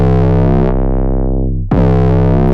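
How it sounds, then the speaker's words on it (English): A loud, heavily distorted electric guitar note in a modern metal tone rings out and decays, then a fresh chord is struck and blares again. "kind of hear that distortion opening up and changing because distortion is dynamic."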